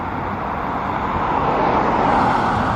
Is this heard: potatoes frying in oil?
no